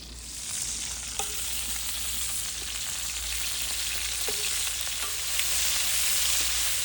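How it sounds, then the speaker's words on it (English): Seafood pre-cooking in an Andalusian paella pan gives off a loud, steady sizzle, with a few faint clicks and scrapes and no talking. "So I'm now taking the seafood just to only pre-cook it, and it will be finished in the rice later."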